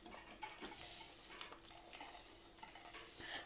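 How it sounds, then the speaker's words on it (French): Lemon cream with melting butter is stirred gently in a pan over low heat for a lemon cake. Faint, close scraping and light stirring sounds repeat over a soft background hiss. "Alors on va le mélanger tout doucement."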